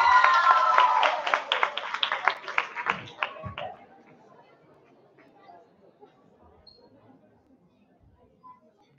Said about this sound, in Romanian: Aplauze pentru ei!